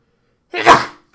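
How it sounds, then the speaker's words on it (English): One sharp, loud sneeze bursts out close to the microphone after a moment of silence, then fades quickly. "Sneeze."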